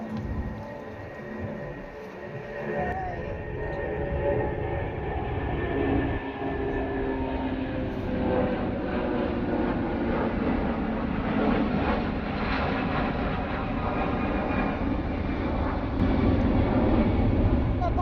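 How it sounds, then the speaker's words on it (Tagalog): A low-flying airplane passes overhead near an outdoor fishing spot, a steady broad engine roar that swells slightly toward the end, with faint voices in the background. "napakababa ng mga eroplano natin ngayon. Napakababa ng mga lipad."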